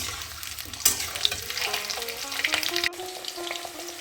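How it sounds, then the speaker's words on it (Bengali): Egg and potato pieces fry in hot oil in a pan, giving a continuous crackling sizzle with occasional scraping stirs and a sharp utensil tap, close and fairly loud, with no talking. "আমার ডিম আলু ভাজা হয়ে গেছে,"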